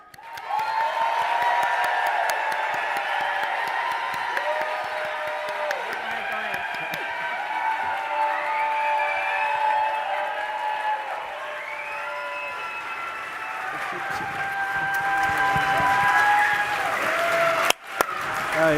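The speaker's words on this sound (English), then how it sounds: "please with a round of applause" A large audience at a conference closing plenary breaks into loud, sustained applause and cheering to welcome speakers onto the stage. The clapping holds steady for the whole stretch and swells near the end.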